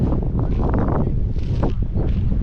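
Strong wind gusts at an outdoor roadside spot buffet the microphone, a loud rumbling roar with rushing, rustling bursts throughout.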